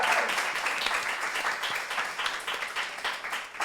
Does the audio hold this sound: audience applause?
yes